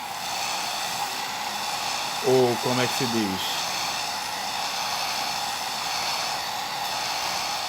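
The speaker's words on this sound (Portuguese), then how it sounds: "O secador de cabelo, só para acelerar." A hair dryer blowing to dry primer on painted miniatures, a steady whooshing hiss running throughout, with someone speaking briefly over it.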